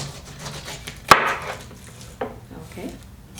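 A knife cutting the top off a fresh pineapple, one sharp crunchy cut followed by a softer slice and faint handling sounds nearby.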